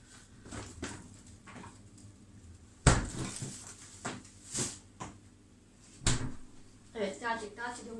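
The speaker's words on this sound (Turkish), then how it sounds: "Bunu kaldıralım dolaba." Things being put away in a home kitchen cupboard while quince dessert is being made, with a few sharp knocks and clatters of wood and dishes among scattered handling noise and someone talking.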